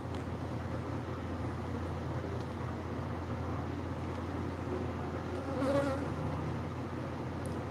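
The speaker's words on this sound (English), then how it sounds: "we just removed an Africanized beehive from the parapet up there" Africanized honey bees removed from a hive in a rooftop parapet drone in a continuous buzz, moderately loud with a brief swell near the end, no talking.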